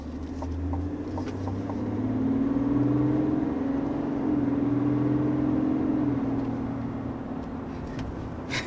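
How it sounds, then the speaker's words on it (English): A 2023 GMC Sierra Denali Ultimate diesel full-size pickup drives along with a low, steady engine drone and a smooth rise and fall in pitch, heard close and alone without talk. "there's just something really nice about driving a diesel in a full-size truck"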